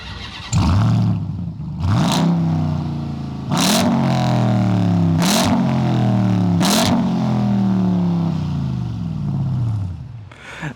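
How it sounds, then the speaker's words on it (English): A 2024 Final Edition performance pickup truck revving hard through its massive exhausts, with five loud, deep blips that rise and fall in pitch in turn, close by and alone, with no voices. "look at those massive exhausts. You want to hear how it sounds?"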